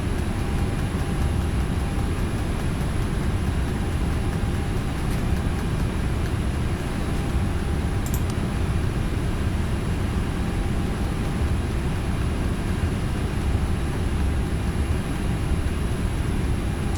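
An Airbus A320 in Flight Simulator X runs its thrust reversers after landing, a loud, steady engine roar that holds without a break for the whole stretch.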